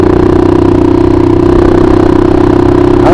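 A scooter or motorcycle engine idles loud and close with no silencer on the exhaust, a steady rough drone with rapid pulsing that holds throughout and rises briefly right at the end.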